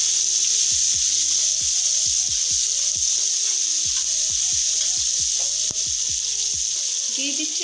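Chopped onions sizzle and fry in hot oil in a pan while pangas fish curry is being cooked, a steady loud hiss with faint stirring clicks throughout.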